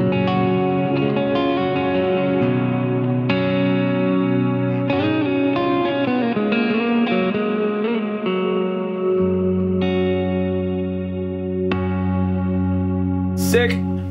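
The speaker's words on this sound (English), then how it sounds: "I used this black hole reverb, I used the pedal on all of my clean tones on my EP." Clean electric guitar played on a Gibson through an Eventide Blackhole reverb pedal: sustained chords and notes ring out close and loud, washed in long, shimmering reverb tails.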